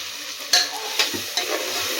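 A spoon stirs vegetable biryani with yogurt in a pot over a soft frying sizzle, giving three distinct scraping knocks against the pot, close and fairly clear, with no talking.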